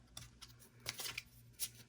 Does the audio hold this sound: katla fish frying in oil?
no